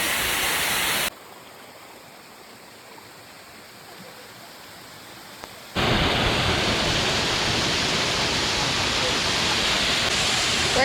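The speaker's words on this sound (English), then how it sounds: "That's the giant waterfall behind us" Giant waterfall in the El Yunque rainforest of Puerto Rico, a loud steady roaring rush that drops away after a second, then surges back in full and continues to the end.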